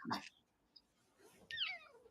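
A house cat gives a couple of short meows, near and fairly quiet, between brief bits of background talk.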